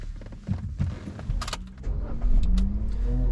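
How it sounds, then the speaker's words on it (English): A 2011-2014 Kia Rio starts with a newly cut and programmed key: keys jangle and the starter cranks briefly before the engine catches and settles into a low idle nearby. "I'm going to test the key to see if it starts the vehicle."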